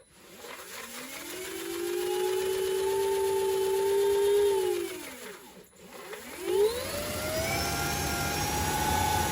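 A Leaperkim Lynx electric unicycle wheel spins freely in high speed mode, a loud whining motor tone that rises, holds steady, winds down to a stop, then spins up again with a sharp rising whine.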